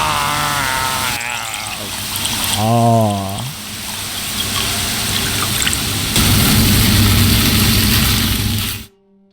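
A lever-cranked meat grinder in the horror cooking game The Supper runs as a steady mechanical whir with rumbling, wet churning layers for about nine seconds, then cuts off abruptly.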